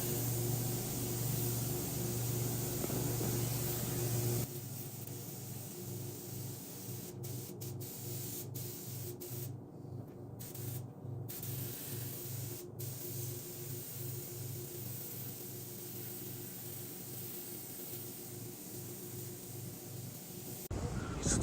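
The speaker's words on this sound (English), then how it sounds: "Getting some clear on the bumper." A spray gun laying clear coat onto a car bumper hisses in a steady, loud continuous spray, with a brief louder burst at the start and a faint rhythmic pulsing underneath.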